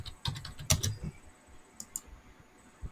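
Computer keyboard typing an AutoCAD command, a quick burst of close, crisp key clicks followed by a few isolated taps in a quiet room.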